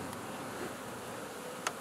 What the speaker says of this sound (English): Look at all the bees following that trail.